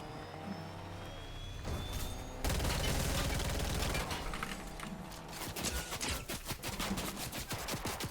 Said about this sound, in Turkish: adam nereden sıkıyor? Nereden sıkıyor? Nereden sıkıyor bize?